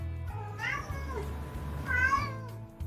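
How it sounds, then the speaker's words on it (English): A pet cat meows twice in the room, close and clear, the first call short and the second longer and louder, over a steady low game music hum with no talk. "it sounds to me like my cat really wants to get on YouTube"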